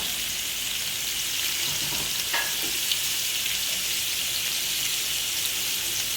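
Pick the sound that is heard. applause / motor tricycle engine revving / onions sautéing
onions sautéing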